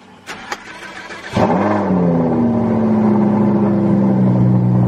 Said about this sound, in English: I'm scared to start the car.